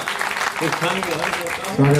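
At a Hindi comic poetry recital, an audience breaks into short applause, clapping that is mixed with voices and quickly gives way to someone speaking.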